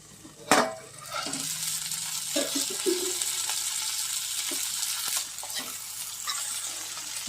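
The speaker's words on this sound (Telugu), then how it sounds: "నూనెలో కొంచెం ఫ్రై అయ్యింది ఇప్పుడు అల్లం" Cluster beans fry in oil in a pan with a steady, close sizzle, broken by a sharp clatter near the start and occasional stirring knocks.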